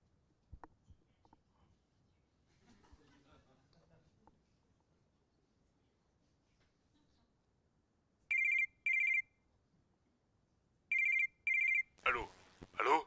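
A telephone rings in a student short film from IUT de Bordeaux: two pairs of clear electronic ring bursts separated by a pause, loud against a quiet room, followed by a brief noisy rustle.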